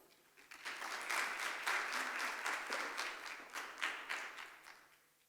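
A conference audience at IFAH Dubai 2019 claps to welcome a keynote speaker, a dense round of applause that swells quickly, holds steady, and fades toward the end.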